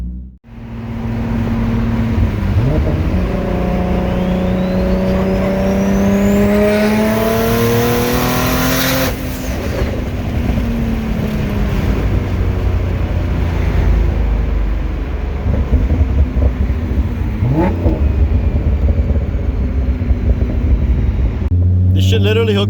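A 600 wheel-horsepower sports car's engine, a G35 coupe or 370Z, revs hard and climbs in pitch through several gear changes, loud and close, with road and tire noise underneath.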